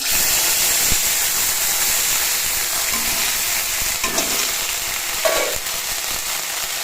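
A ground paste of ginger, garlic and onion hits hot oil already holding cumin and bay leaf, producing a loud, continuous close hiss with occasional sputtering crackles and no voices.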